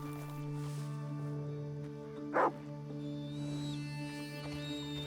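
A single short dog bark in Red Dead Redemption 2 rises over a constant low electronic hum and faint background music.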